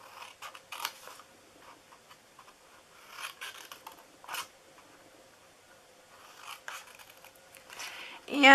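Scissors cutting at an angle for a box craft, a few scattered crisp snips and scraping cuts at close range with quiet gaps between them.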